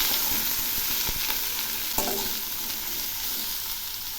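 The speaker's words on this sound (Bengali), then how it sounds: "এই ঝিঙ্গেগুলো ওর সঙ্গে ভালো করে ভেজে নেব।" Sliced ridge gourd frying in hot oil with salt and turmeric, a steady close sizzle broken by a couple of sharp stirring scrapes, no voices.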